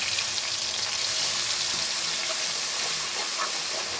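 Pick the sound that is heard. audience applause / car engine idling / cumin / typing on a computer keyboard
cumin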